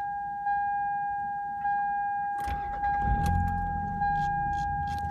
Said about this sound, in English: We'll start the car up. We'll put the clutch in and turn the key.